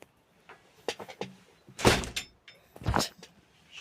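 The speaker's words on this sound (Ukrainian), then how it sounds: "Це двері." A door in a horror video game gives a series of creaks and thuds, ending in two heavy, loud slams spaced about a second apart.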